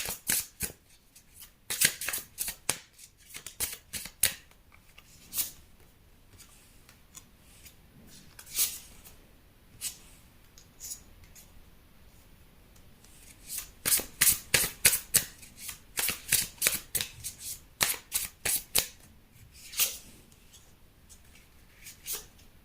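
Tarot cards being shuffled and drawn in repeated bursts of crisp riffling and flicking, clustered near the start and in a dense run midway, with quieter handling and brief pauses between, no talking.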